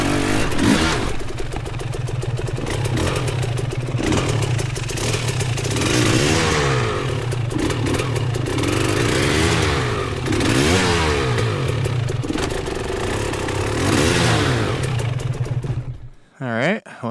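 A KTM 300XC-W two-stroke dirt bike on a hard enduro trail rides close, its engine loud and continuous, revving up and down in repeated surges with clatter from the terrain, before cutting off briefly at the end.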